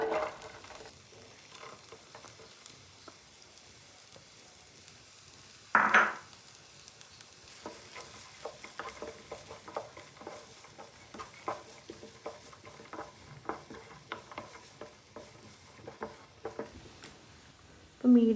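Medium-size chopped onions sizzle steadily in a pan of melted butter for samosa filling, a soft continuous frying hiss broken by occasional stirring and clinks of a utensil against the pan.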